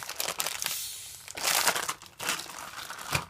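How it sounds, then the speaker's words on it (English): Plastic packaging around RC car racing tires is cut and pulled open, giving bursts of close crinkling and crackling with brief pauses between handling sounds. "cut the packaging"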